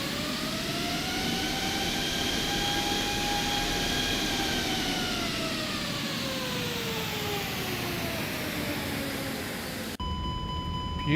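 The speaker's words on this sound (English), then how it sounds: "Shall we do a spool up exterior, and then we'll go back to idle" Trent 7000 turbofans on an Airbus A339 in the X-Plane 12 flight simulator spool up from outside, a loud steady roar with rising whine tones that climb and then slowly sag, before an abrupt cut to a quieter interior hum.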